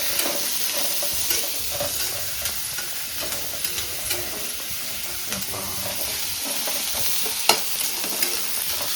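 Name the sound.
fish frying and being stirred in a pan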